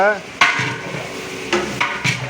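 Cut tomatoes added to a large pot of Kanchipuram-style tomato rice made in a 25-kilo batch, sizzling and being stirred, with several sharp scraping knocks of a ladle against the metal over steady frying hiss.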